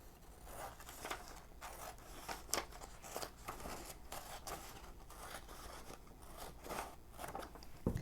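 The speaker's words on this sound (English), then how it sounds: "Now I need to cut in the other direction. Again, with a scissor or paper cutter." Scissors snip through paper pattern photocopies in a quiet series of irregular crisp cuts and rustles, close by, with no talking.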